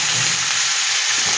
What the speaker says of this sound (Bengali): সবজিটা ভাজার জন্য দিলাম,